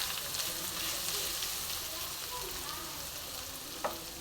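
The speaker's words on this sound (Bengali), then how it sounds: "নারকেল কোড়াটা একটু ভালো করে ভাজা ভাজা করে নেব।" Grated coconut fries in a pan over a low flame with tempering spices for mango rice, producing a steady, close sizzle with light stirring and a sharp clink near the end.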